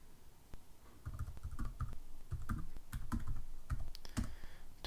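A password is typed on a computer keyboard in an uneven burst of close, crisp key taps with short pauses between clusters, and no one speaking.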